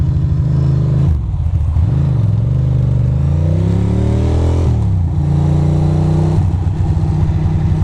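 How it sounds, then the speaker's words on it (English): A Lexus car accelerating hard on a road drive, its engine loud and close, with repeated rising revs as it climbs through gears and brief dips between shifts. "You're gonna have to gun it, Lexus."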